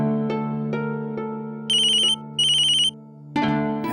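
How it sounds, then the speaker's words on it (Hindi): A telephone rings indoors with an electronic ringtone: a few melodic chime notes followed by two bright, shrill trilling bursts, then the tune starts again. It is loud and close, with no voices over it. "मेरा साहब का फोन है।"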